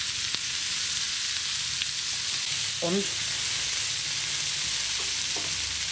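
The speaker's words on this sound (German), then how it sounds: "Die werde ich schön glasig anbraten." Onions frying in olive oil in a pan, a steady even sizzle throughout with a short spoken word in the middle.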